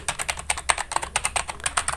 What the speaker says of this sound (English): Every keyboard button sound like this